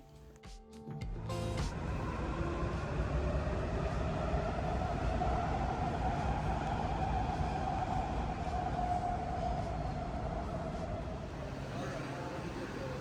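A moving metro train carries riders through Washington DC, its steady rumble and broadband rattle continuing loud and unbroken after a brief start, with a faint tonal whine running through the carriage.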